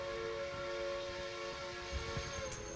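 A cartoon steam train whistle sounds as one sustained, steady multi-tone blast, clear and fairly far off over a low rumble.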